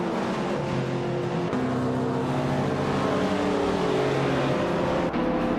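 Race cars drone loudly and continuously through a race, several engines layered with rising and falling pitch as they jostle for position, no voices over them.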